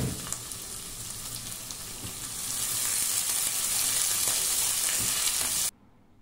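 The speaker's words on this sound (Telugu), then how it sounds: "ఉల్లిపాయలు కొంచెం కలర్ చేంజ్ అయ్యే వరకు కూడా వేయించుకోండి." Onions sizzle and fry steadily in a pan for green bean curry, a loud continuous hiss that swells midway and then cuts off abruptly near the end, with no talking.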